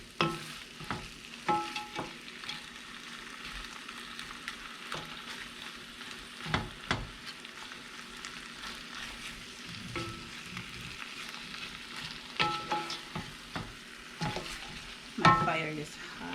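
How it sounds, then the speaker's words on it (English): Spicy jumbo shrimp fry in a pan over high heat, a soft steady sizzle broken by repeated scraping stirs, some sharper knocks and clatters, heard close and fairly quiet. "I like to stir my shrimp while it's cooking."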